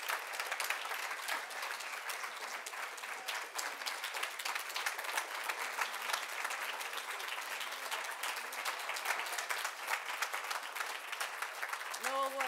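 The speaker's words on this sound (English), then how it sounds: "So please, with a big round of applause, raise yourselves and let us please celebrate Juanita Ingram." An audience at a charity women's awards ceremony in London gives a long, steady round of applause, dense, even clapping that fills the room and carries on without a break.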